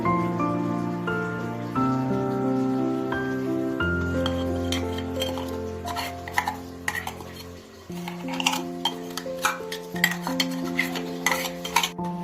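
Banana stem and dal curry is stirred with ground paste, a spoon clattering and scraping in a metal pot in quickening close strokes over soft background music.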